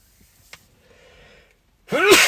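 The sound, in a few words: sneeze caused by sun in eyes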